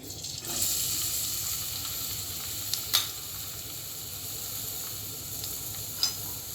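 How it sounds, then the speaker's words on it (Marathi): Chopped ivy gourd (tondli) sizzles in hot oil: a continuous bright hiss that begins abruptly, with a few sharp clinks of a utensil against the pan. No one speaks. "तेल टाकले आता आपल्याला तोंडली टाकायची चिरलेली"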